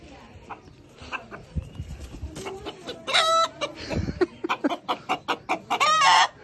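Rooster clucking close by in a rapid string of short, loud clucks that grows busier toward the end, with scattered talk in the background.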